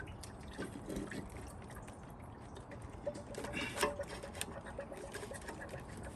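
Coolant drips and patters out of an intake manifold just lifted off a Toyota 4Runner's supercharged 3.4-liter V6, a steady close trickle of liquid with scattered splats and small knocks, no talking.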